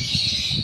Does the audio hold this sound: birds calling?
yes